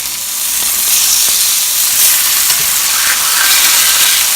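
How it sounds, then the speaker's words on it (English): Pork chops sear loudly in a hot pan, a bright continuous sizzle with steam hiss and occasional faint clicks of a utensil nudging the meat, close and steady with no talking. "Make sure they're not sticking to the bottom of the pan. And we're going to let those sear on both sides as well."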